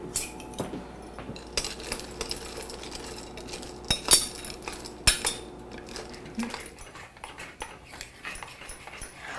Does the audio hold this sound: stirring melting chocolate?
yes